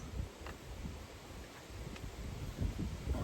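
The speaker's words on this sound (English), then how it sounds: "It's windy as fuck, so that ain't helping me at the minute" Strong wind blows outdoors, rumbling and buffeting a microphone in uneven low gusts with a faint rustle, and no voices are heard.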